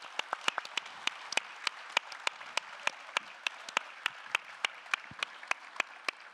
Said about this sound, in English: Can we get a big round of applause for all of our wonderful speakers?